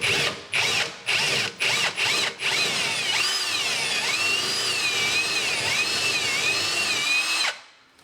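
A power drill enlarges a hole to 9mm in a kitchen cabinet, starting with several short bursts, then running steadily as its whine rises and falls under load before spinning down.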